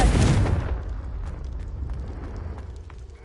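A Confringo fire spell explodes in the game Hogwarts Legacy with a loud, close, booming burst that quickly decays into a rumbling tail with faint crackles.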